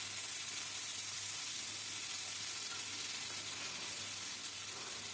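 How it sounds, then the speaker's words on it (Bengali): Chopped potato seasoned with salt and turmeric fries in a pan, giving a steady, soft, continuous sizzle with a faint low hum underneath and no talking. "একটা আলু কুচানো আর কি একটা বড় সাইজেরই আলু কুচিয়েছিলাম আর কি সেটা ভেজে নিচ্ছি আমি"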